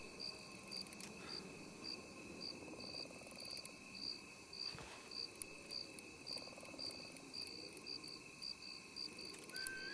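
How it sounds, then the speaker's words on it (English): Cricket-like clicking in the WildRP video game: a faint, steady chirping pulse repeating evenly throughout, set against a quiet, low ambient rumble with no voices. "it's almost like a cricket, or like a clicking"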